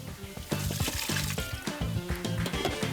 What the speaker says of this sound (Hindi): इनको ना स्ट्रेन कर लेती हूँ, थोड़ा सा जल्दी से हो जाएगा काम हमारा